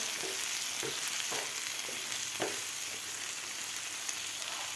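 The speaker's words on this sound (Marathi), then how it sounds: "टोमॅटोसुद्धा आपल्याला सॉफ्ट होईपर्यंत हे शिजवून घ्यायचे आहेत कांद्याबरोबर" Tomatoes cook with onions in a pan, a soft, even sizzle running throughout with a few faint spoon taps, fairly quiet and distant.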